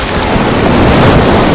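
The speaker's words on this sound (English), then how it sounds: "Here's another big wave." Big Atlantic Ocean waves crashing at Virginia Beach, a loud, steady roar of surf close by with wind buffeting the microphone throughout and no voices.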